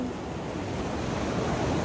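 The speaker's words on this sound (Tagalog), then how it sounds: "Alon!" Ocean surf rolling in along a shore, a continuous broad wash of breaking waves mixed with wind buffeting the microphone, loud and steady throughout.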